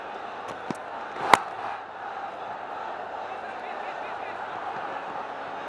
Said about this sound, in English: full house here at the Sylhet International, and they really cheering the home side on